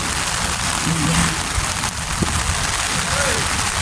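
Rain patters steadily on a mountain fortress outing, a soft broadband hiss with occasional drops, while people talk nearby.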